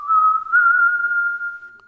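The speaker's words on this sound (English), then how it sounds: "Your eyes widened at the sound of it whistling." An eerie, steady whistle for a horror story holds one thin pitch for almost two seconds, clear and alone against silence.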